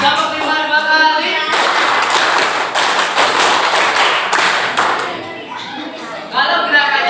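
A group claps hands together in short patterned bursts of rhythmic beats during a classroom coaching session, the claps loud and close with voices talking between and around the rounds.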